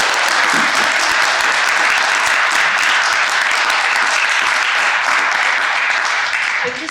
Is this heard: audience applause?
yes